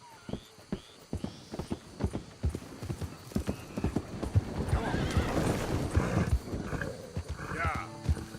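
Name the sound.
horse hooves and neighing in Red Dead Redemption II video game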